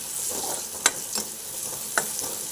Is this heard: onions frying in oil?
yes